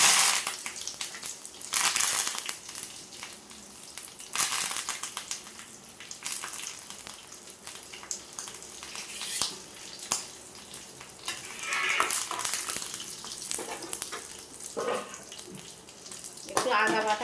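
Black mustard seeds, whole cumin and curry leaves crackling and sizzling in hot oil in a pan, a steady close frying hiss with sharp pops, under someone speaking.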